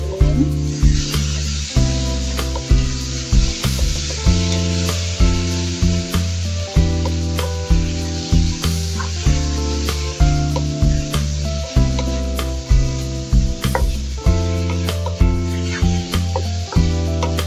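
Tomatoes cook in a pan for a fish-and-egg stew and are stirred, giving a soft sizzle and scraping strokes under steady, fairly loud background music.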